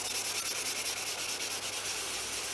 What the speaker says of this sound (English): I've got to sand that first, and I've got to wet and dry sand that first